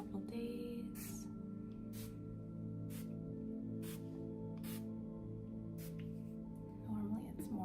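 A healer spray bottle misted several times at the start of a distance crystal Reiki session, giving short airy hisses spaced about a second apart over steady soft background music.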